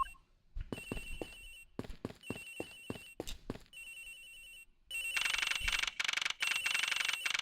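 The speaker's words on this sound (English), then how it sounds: "It sounds like the phone is up in the flight attendant's room." A telephone rings in the Ace Attorney Investigations video game aboard a passenger flight: short, clipped electronic rings come in separate bursts at first, then a louder, continuous trill sounds near and alone.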